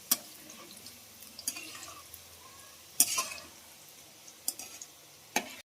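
Cucumber bites frying in hot oil over a low flame: quiet, sparse crackles and sharp pops at irregular intervals over a faint low simmer.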